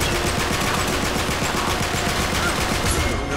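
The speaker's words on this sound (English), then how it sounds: "Holy crap, that AK." Rapid sustained automatic AK rifle fire in the Uncharted 3 multiplayer game, a dense continuous rattle of shots that runs loud and unbroken throughout.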